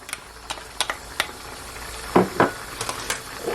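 Thyme, scallion and ginger go into a pot of Jamaican oxtail with a scatter of light clinks and scraping stirs, two fuller thuds near the middle, and a low hiss underneath, with no voices.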